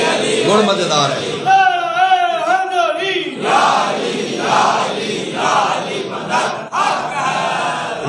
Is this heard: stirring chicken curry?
no